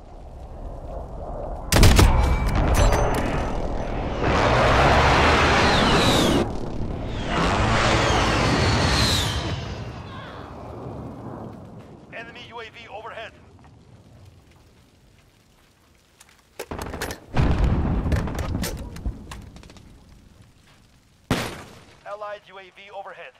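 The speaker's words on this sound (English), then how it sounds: "Allied precision airstrike incoming." An airstrike and gunfire in the video game Call of Duty: Modern Warfare: heavy rumbling blasts and crackling bursts roll loudly for several seconds, then sharp sporadic explosions and shots follow, with a game announcer's voice heard between them.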